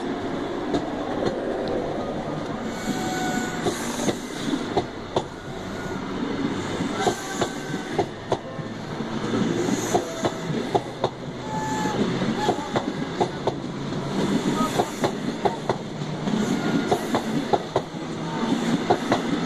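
An electric train on the 11:08 service to Norwich pulls gently away from platform 3 at Ipswich station, with a continuous rumble, rhythmic wheel clicks over rail joints and faint squeals, close and steady, with brief talk.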